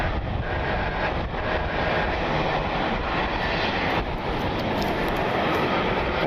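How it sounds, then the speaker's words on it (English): A CRJ 200 airliner's jet engines whine and roar steadily through rain at Cleveland Hopkins airport, a constant loud wash of engine noise and rainfall with no voices. "Flight 5523 for the CRJ 200."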